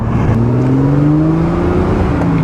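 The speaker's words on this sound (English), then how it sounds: "But it's a straight 6, inline 6. That's part of what makes it sound so great." A 1970 Triumph TR6 with a 2.5-liter inline-six, its engine loud and close as the pitch climbs steadily under acceleration in a smooth, continuous rev.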